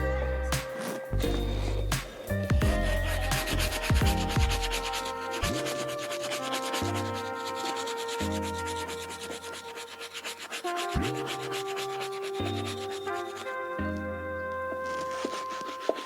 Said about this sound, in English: So I'm gonna go ahead and grab my soft bristle brush and really go at this tongue